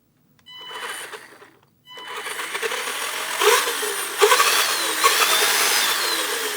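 The electric motor of an HPI Monster King RC monster truck whines up on throttle in a brief burst, pauses, then revs again in several rising surges, close and moderately loud.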